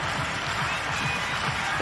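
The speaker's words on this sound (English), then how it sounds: "The Townsville crowd are right into this and enjoying every minute." Crowd at a Townsville Fire versus Perth Lynx WNBL finals women's basketball game in Townsville roars and claps steadily in the arena, loud and continuous beneath a voice talking over it.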